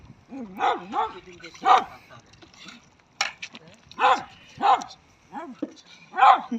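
Several dogs bark and yip in short, sharp bursts spaced a second or so apart, close and fairly loud, with occasional voices between, in a village while geese are being cleaned.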